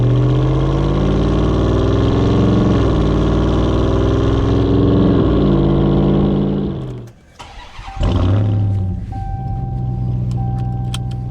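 2022 Ram 1500 TRX pickup with an eight-speed automatic driving on the road, a loud throaty engine climbing through rising revs and gear shifts, then cutting off abruptly before a softer engine note resumes with small clicks and tones.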